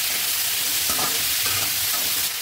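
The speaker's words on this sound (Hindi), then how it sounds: "आलू डाल के अच्छे से चला लेना है, इसको थोड़ा सा फ्राई कर लेना है।" Potatoes and chopped tomato fry in an oiled pan, a loud, continuous sizzle broken by a few scraping stirs of a spoon near the middle.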